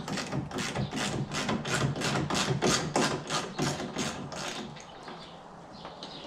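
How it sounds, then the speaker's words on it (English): Rapid ratcheting clicks from a hand tool backing out screws on a 2018–2020 Ford F-150 tailgate, a steady close burst of about a dozen even ticks that slows and fades near the end. "gonna go ahead and take these two screws off"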